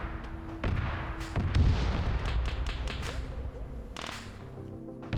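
Artillery fire in a military video game: a loud, close boom from a high-explosive round, with a few sharp cracks and a lingering rumble afterward.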